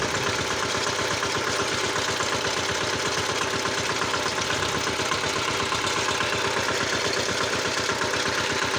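A walk-behind tractor's engine runs in first gear, a loud, steady chugging thump with a rapid regular pulse that holds unchanged throughout at close range.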